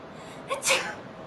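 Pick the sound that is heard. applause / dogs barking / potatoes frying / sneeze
sneeze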